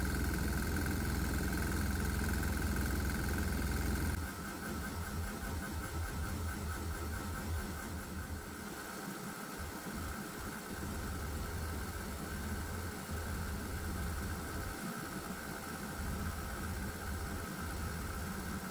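A diesel engine with a governor runs on propane and vaporized water, holding a steady loud drone throughout with a persistent knock; the tone shifts slightly after a few seconds, with no talking.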